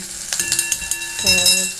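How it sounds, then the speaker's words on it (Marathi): Cumin, onion, green chilli and garlic sizzle in hot oil for a tempering, with quick spoon scrapes and clinks against the pan over a steady close frying hiss. "फोडणीला घातले जिरं कांदा हिरवी मिरची लसूण"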